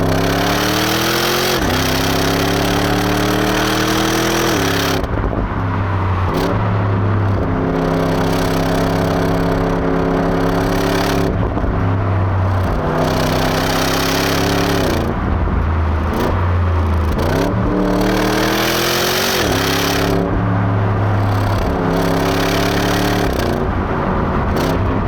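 A Porsche Cayenne GTS engine drones steadily from inside the cabin while driving, its pitch rising through each gear and dropping at the shifts, loud and continuous throughout with no voices.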